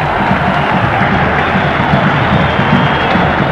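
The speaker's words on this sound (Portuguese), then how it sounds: "Como está 2-0, a torcida aplaude o Pia." A football stadium crowd applauds and murmurs at a 2001 Paulistão match between Ponte Preta and São Paulo, a dense, steady wash of clapping and crowd noise that holds evenly throughout.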